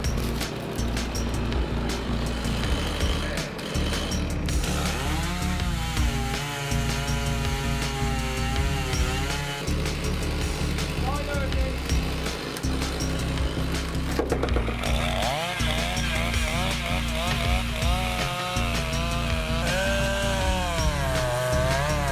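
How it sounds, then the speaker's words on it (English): A chainsaw with a powerful engine of over six horsepower snarls loudly while felling a 200-foot Jeffrey pine in the forest, its pitch climbing and dipping as the revs rise under load and ease off between cuts. "The chainsaw roars, its 6-plus-horsepower engine cutting each precise cut."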